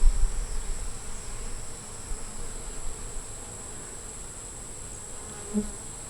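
Honeybees and drones buzz steadily in an open hive, a dense, continuous hum with no talk over it.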